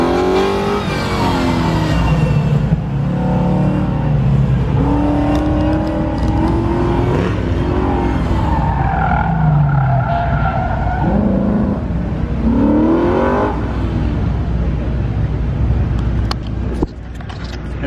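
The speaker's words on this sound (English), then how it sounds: "It's a classic fastback Mustang with that killer Coyote engine." A classic fastback Mustang with a Coyote engine revs hard and skids, its rising and falling engine note blending with sustained tire squeal, loud and close throughout with no voices.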